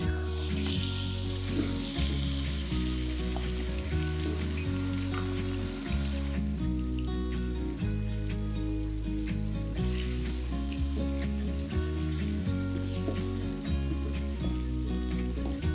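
Marinade for Pakistani biryani frying in a pot with softened onions and bay leaves, giving a steady close sizzle with occasional stirring scrapes, while background music plays throughout.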